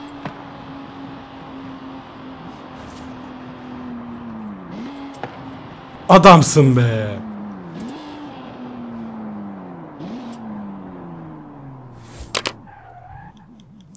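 A stock 1962 Ferrari 250 GTO engine in Forza Horizon 5 hums steadily, pitch sagging and rising through several gear changes, with a sharp loud burst of noise midway and a short clatter near the end; a voice speaks briefly.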